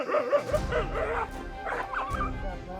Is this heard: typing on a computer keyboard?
no